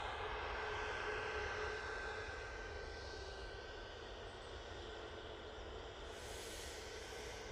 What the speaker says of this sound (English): That Ryanair that's been on the naughty step now is on the move